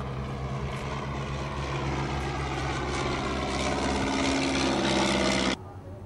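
A Miles Messenger light propeller aircraft flying at the 2010 Sywell Airshow gives a steady, loud engine and propeller drone with a constant tone, then it cuts off sharply near the end.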